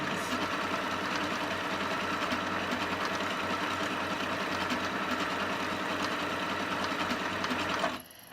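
A Singer 8500Q sewing machine runs continuously, stitching a circle pattern with a steady mechanical whir and rapid needle rhythm, loud and close, stopping abruptly near the end.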